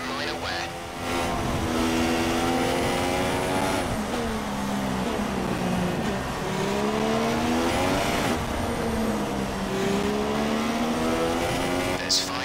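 A Williams Formula 1 race car engine at Interlagos, Brazil, showing minor wear, whines loud and close with continuous revving that rises and falls through gear changes, with no talk over it.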